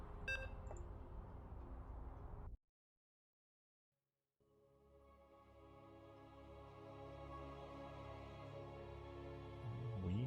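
Electronic beeps and tones from a video game loading into Game 1 of a match on the Tokamak map. The sounds break for a silent gap of about two seconds, then a steady, layered game tone builds and holds until the end.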